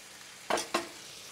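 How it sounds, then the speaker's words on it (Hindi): Mutton pieces being stirred in a pan for bhuna, two quick scraping strokes of a spoon over a soft, steady frying hiss. "अब चार से पाँच मिनट के लिए मटन की बोटियों को अच्छी तरह से भूनेंगे हम"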